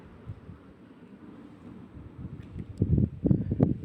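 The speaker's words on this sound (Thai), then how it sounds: "ดูลมไปพัดอะไรมาเนี่ย" Wind gusting outdoors near a rural Thai house, a steady rushing roar that builds louder and more buffeting toward the end, with rustling bursts as something is blown along.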